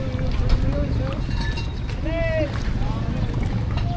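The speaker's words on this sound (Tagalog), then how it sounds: "Oh, laki ng bangka dito." Low rumbling engine of a large boat at a fishport and water wash, with wind buffeting the microphone and bits of voices and tonal calls over it.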